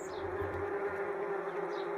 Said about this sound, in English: Suddenly the skies were humming. 4 million wasps were coming.